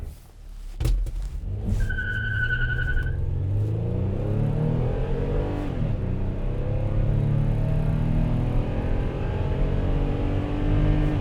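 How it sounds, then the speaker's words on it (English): A 2008 Toyota Sienna minivan launching hard from a standstill, its engine rumbling and climbing steadily in pitch through the gears, with a brief shift dip midway, heard loud and close from inside, with a short electronic chime early on. "we're gonna take a little bit more conservative approach to a launch here and see what we can get"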